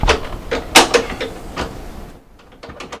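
Wooden cabinet doors in a yacht stateroom on an Allseas 92 being opened, a few close knocks and clacks of hinges and panels, then a quieter stretch with soft light taps.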